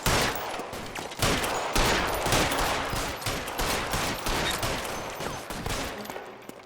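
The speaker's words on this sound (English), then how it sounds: "Can I shoot all these out?" Continuous bursts of gunfire in the video game LA Noire, rapid overlapping shots forming a loud, dense fusillade with no talk.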